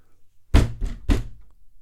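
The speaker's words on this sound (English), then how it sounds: "a firm knock at the makeshift door of his small home" Firm knocking on the makeshift door of a small home: three heavy, close thuds, the first loudest, with a short gap between each and no voices.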